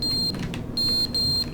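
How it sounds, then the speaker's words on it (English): A fire alarm sounds in The Stanley Parable: Ultra Deluxe, steady high electronic beeps in a repeating on-off pattern, loud and close with no talk over it. "The fire alarm's going off."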